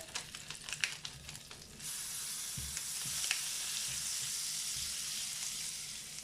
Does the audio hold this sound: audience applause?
no